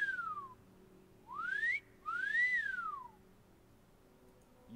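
Whistled notes from the Convenient Horses mod for the Skyrim video game: a short falling whistle, then two rising-and-falling tones in quick succession, clear and fairly loud over a quiet background hum.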